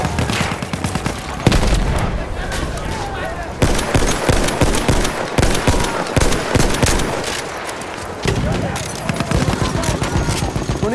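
Dense, continuous rapid gunfire in Battlefield 1 with bursts of automatic fire and occasional booms, loud and chaotic throughout, with voices shouting in German underneath.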